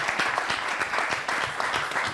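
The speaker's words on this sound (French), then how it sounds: "On l'applaudit très très fort." A crowd claps loudly for a nine-year-old association member, a brief burst of dense applause with audible individual hand claps pulsing through the wash.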